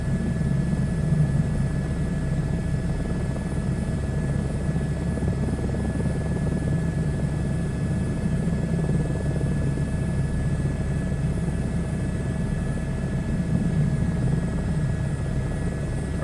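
A helicopter in a flight simulator drones steadily and loudly throughout, with a constant rotor and engine rumble and a faint high whine overhead, and no pauses or speech.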